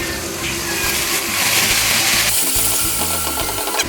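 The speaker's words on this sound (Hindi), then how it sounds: "साथ ही थोड़ा सा मैं पानी भी डालूँगी।" Water pours in a loud, steady gush into a cooking pot of masala mutton chops with garlic and ginger, continuous and close for several seconds.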